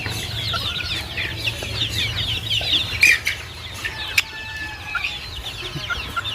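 Local desi chickens cluck softly and steadily nearby, with a few sharper calls and light outdoor background noise.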